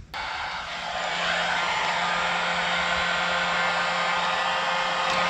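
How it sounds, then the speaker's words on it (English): A heat gun switches on and blows a steady, loud rush of hot air with a faint motor whine, used to warm solder connectors while installing LED lights in a 2005 American Eagle RV; no voices. "Heat gun to heat up."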